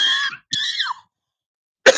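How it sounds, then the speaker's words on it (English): A man with a recurring cough makes strained, voiced throat sounds, pauses, then lets out one sharp, close cough at the end. No speech is heard. "Here goes that cough again."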